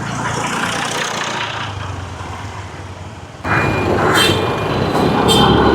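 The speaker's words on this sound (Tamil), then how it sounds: "மாநகர சபை டிராக்டர் வந்திருக்கு பாருங்க குப்பை அள்ளி கொண்டு போகிறதுக்கு" A municipal garbage-collection tractor's heavy engine rumbles steadily outdoors on a street in Jaffna, growing louder midway as it draws closer, with some higher mechanical whines over it.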